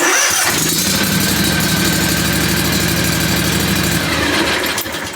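A Scag VRide2 lawn mower engine cranks and fires up into a loud, close, steady running rumble, then begins to fade near the end.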